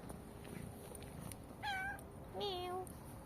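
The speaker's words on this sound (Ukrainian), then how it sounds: "Такий гарний котик." A cat meows twice, two drawn-out calls a moment apart, against a quiet background hiss.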